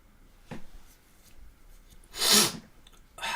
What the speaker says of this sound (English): drops a sneaky fart